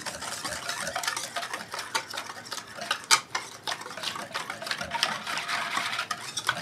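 Spice rub mixture for espresso beef back ribs stirred in a bowl, a continuous close scraping and clinking with a few sharper taps of the utensil against the sides.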